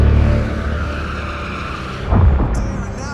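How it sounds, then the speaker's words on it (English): Ayrton Senna's Formula 1 car loses grip in the rain at the Dunlop corner and slides off, a loud sustained engine and tyre skid with a heavier impact-like burst near the end. "One of them is Ayrton Senna, who loses it at the Dunlop corner on lap 42 and crashes into the barriers."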